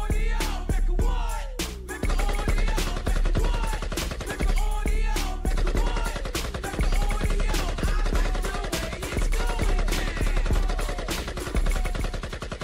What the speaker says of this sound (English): I had to hit them gunshots